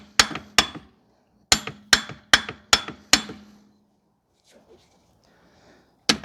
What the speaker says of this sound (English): You need to keep on whacking it until it comes out.